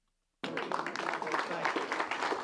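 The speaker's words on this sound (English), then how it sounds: "Applause at a private members club near Buckingham Palace" Applause fills a room at a private members club near Buckingham Palace, starting abruptly and holding steady as a dense, close patter of many hands, with voices mixed into the crowd noise.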